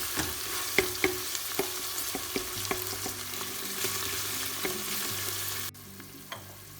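Sautéed onions and garlic with pepper paste are stirred in olive oil in a pan for Turkish green beans: a steady close sizzle carries scattered sharp scraping clicks from the utensil, with no voices.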